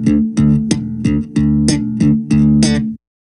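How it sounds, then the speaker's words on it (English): An electric bass plays a slap triplet figure, a thumb slap followed by a finger-popped octave, repeated in an even, bright, percussive rhythm about eight times before stopping abruptly. "those slap triplet figures are built off a technique that's very commonly used"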